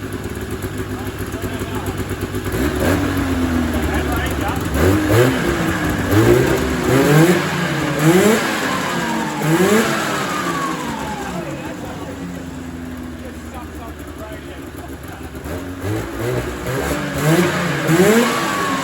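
A Yamaha Exciter 440 boat engine revs repeatedly with the throttle, rising and falling in several loud surges before settling toward idle and revving again, close by, with people talking over it.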